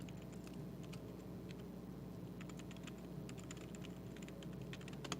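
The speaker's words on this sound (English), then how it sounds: "Here, I'll type it." Fingers type on a computer keyboard in quick, irregular bursts of light clicks over a steady low indoor hum, fairly faint and with no speech.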